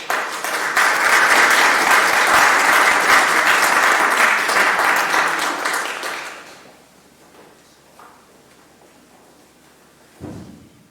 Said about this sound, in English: I think that deserves an round of applause